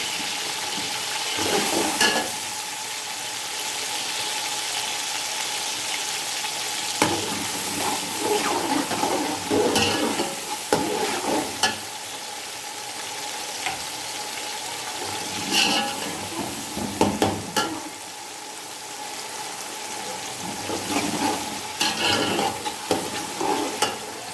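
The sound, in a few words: frying tomatoes with ginger garlic paste for beef pulao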